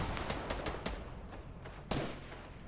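Gunfire in the Fortnite battle royale game: a quick series of faint sharp shots in the first second, then one louder crack near the end, heard somewhat distant.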